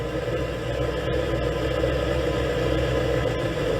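A 1958 Chevrolet car engine with an Edelbrock carburetor idles steadily, a continuous close rumble with a slightly uneven lope, alone and with no talk over it.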